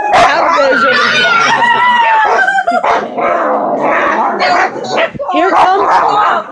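Three dogs barking, yipping, growling and whimpering during rough play, loud and close, a busy tangle of overlapping yelps and snarls with people's voices mixed in.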